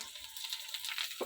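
Vegetables, onions and lentil dumplings frying in a pan with dry five-spice, a steady soft sizzle and crackle running under light stirring, close by and fairly quiet.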